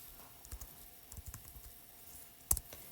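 Keys tapped on a computer keyboard while entering a calculation into an online calculator, a sparse, faint run of soft clicks in small clusters, with one sharper click near the end.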